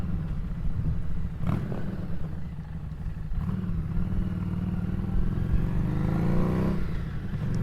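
Harley-Davidson motorcycle on an open ride, engine rumbling steadily with rising and falling revs and heavy wind buffeting throughout, no talking.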